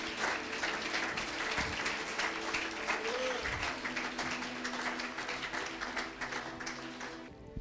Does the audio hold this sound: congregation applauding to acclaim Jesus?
yes